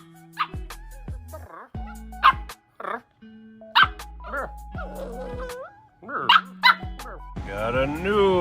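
Two pet dogs bark in short sharp yips and bow-wows scattered across the stretch, with a whimpering whine near the end, close and fairly loud over faint room sound.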